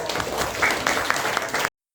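Classroom applause from a group of students, a dense patter of claps lasting under two seconds before cutting off abruptly, with some voices mixed in.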